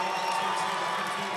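A basketball arena crowd roars steadily during an NCAA men's tournament game, a dense continuous wall of cheering and noise heard from within the stands, without clear individual voices.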